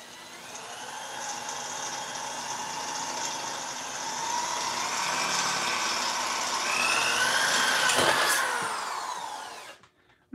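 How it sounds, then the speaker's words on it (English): A drill bores a large hole through the front center of a helmet in a home workshop, a steady whirring mechanical drone rising in pitch and building louder over about eight seconds before cutting off abruptly. "Just drilling a giant, massive, gaping hole in the front center of the helmet"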